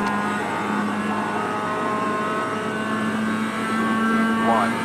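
Mazda MX-5 Cup race car engine at Road Atlanta in iRacing, a steady high-pitched engine whine that holds then rises as revs climb near the end, with a voice talking faintly underneath.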